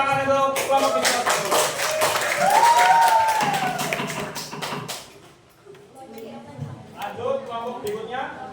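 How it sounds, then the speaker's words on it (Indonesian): Classroom applause for the first student group, scattered claps running for about five seconds while several voices talk and call out over them, then fading into chatter. "Beri tepuk tangan untuk kelompok nomor 1"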